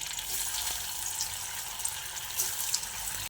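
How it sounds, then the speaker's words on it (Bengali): Soya bean kebabs sizzle in hot oil as they are dropped in one by one, a steady bright hiss and crackle with small pops, close and continuous. "এবার আমি এই কাবাবগুলো একে একে গরম তেলের মধ্যে ছেড়ে দিচ্ছি"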